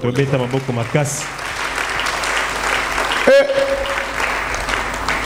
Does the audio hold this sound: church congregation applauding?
yes